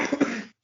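A single short cough, close and fairly loud, with a couple of quick bursts inside it, followed by silence.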